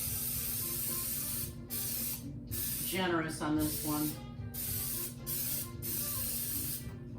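Long bursts of cooking spray hiss steadily onto a 9x9 baking pan, pausing briefly between sprays, while a person speaks a few words over it.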